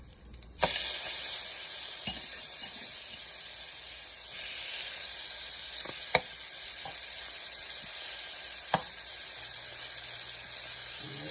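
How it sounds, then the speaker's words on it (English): A steak drops into hot fish grease in a pan and sizzles loudly right away, a steady bright frying hiss that continues with occasional pops and crackles. "drop my steak in there"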